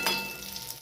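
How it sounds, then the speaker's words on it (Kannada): Vada frying in hot oil until browned, heard as a brief, close, steady crackling sizzle. "ಸ್ವಲ್ಪ ಕೆಂಪಗೆ ಫ್ರೈ ಮಾಡತ್ತೀನಿ ರೀ ಇವನ್ನ"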